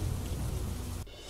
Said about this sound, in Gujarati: મોડાસાના લીંભોઈ પંથકમાં ધોધમાર વરસાદ